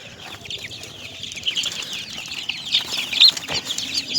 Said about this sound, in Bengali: এই জায়গা আছে টাইগার মুরগি, ফার্মি মুরগি, দেশি মুরগি